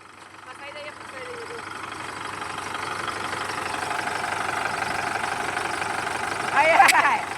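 A tractor engine runs steadily in an open field, a low continuous mechanical hum that builds slightly and holds, with a brief louder burst near the end and faint voices in the background.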